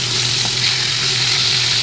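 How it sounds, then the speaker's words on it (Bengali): Hilsa and rohu fish heads fry in oil, giving a loud, dense, continuous sizzle that stays even throughout. "এই যে মাথাগুলো ভাজা হয়ে গেছে আমার, এটা তুলে নিচ্ছি।"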